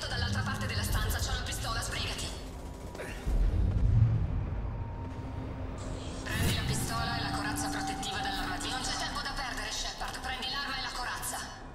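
Explosions and gunfire in the video game Mass Effect 2 erupt as heavy booms and bursts mixed with alarms and crackling action, while characters talk throughout.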